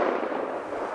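A single sharp blast from a Remington 11-87 shotgun fitted with a Boyd's stock and Rhino chokes, loud and close, decaying quickly.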